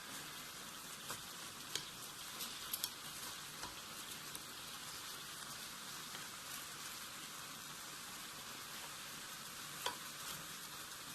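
Onions tossed in with beef in a pan for Japanese nikujaga sizzle and crackle loudly and steadily, a dense continuous fry with occasional sharper pops and no talking.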